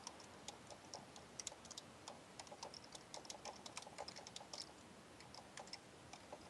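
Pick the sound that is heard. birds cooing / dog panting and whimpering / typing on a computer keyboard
typing on a computer keyboard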